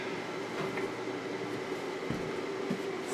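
A steady low blower hum from a Dry Guy Wide Body boot dryer runs continuously with faint mechanical rattles, fairly quiet and close.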